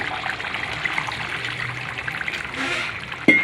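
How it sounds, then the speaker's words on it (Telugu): Water pours steadily into a simmering pot of boondi cashew curry with tomato puree, a soft trickling hiss ending in a brief clunk. "కొంచెం వాటర్ వేసుకుందామండి"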